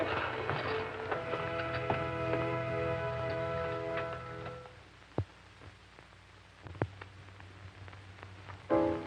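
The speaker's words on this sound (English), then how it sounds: "What's that, horses?" Scattered horse hoof clops sound at an irregular pace after a sustained musical chord fades out, fairly close against a quiet background, in a 1938 film.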